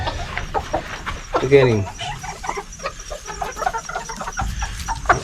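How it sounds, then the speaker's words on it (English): Backyard homestead chicken clucking and squawking nearby, one loud drawn-out call midway among scattered softer clucks, with someone talking over it. "Guys, that chicken right there is a stud."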